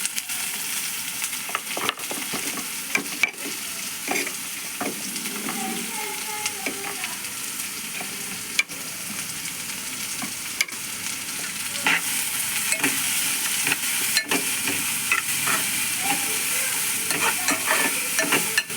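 Grated carrot being stir-fried in a pan for a simple carrot curry, a continuous soft sizzle with intermittent scraping and stirring clatters of a spoon, close and fairly quiet, no voices.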